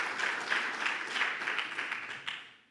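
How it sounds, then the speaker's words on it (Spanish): Church congregation applauding during a sermon, a fairly faint crowd clapping heard from a distance in a reverberant space, holding steady and then fading out at the end. "Dale un fuerte aplauso al Señor, ¿sí?"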